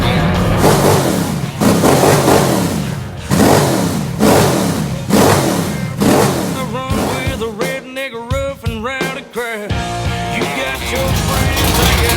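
Rebuilt lawnmower engine revving hard in repeated bursts, each rising roar dropping back between throttle blips, then settling into a choppier, uneven running note near the end; loud and close, with no speech.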